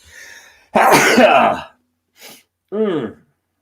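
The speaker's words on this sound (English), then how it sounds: "I'm going to sneeze." A single loud sneeze bursts out after some faint speech, followed by a short sniff and a brief voiced sound.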